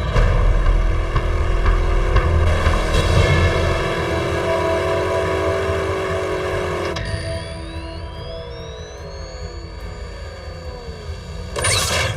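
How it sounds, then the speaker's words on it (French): A steady engine drone from a vehicle approaching in the animated series Transformers: Prime hums throughout, with a rising whine coming in partway through as the machine draws closer. "Je reconnaîtrai le son de ce moteur entre mille."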